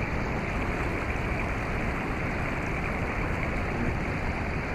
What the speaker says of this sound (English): I like to hear the sound of the water behind me.